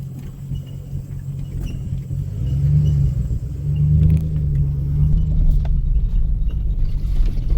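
A Cadillac Escalade with a cheap aftermarket exhaust upgrade and lift kit idles with a deep, steady rumble, loud and close, swelling slightly as the revs rise midway before settling back into a continuous growl.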